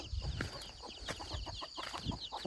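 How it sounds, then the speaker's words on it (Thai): Chickens clucking on a rural Thai farm, a scatter of close, irregular clucks and short calls over a low rumble and faint background noise, with no voices. "โอ้ไก่"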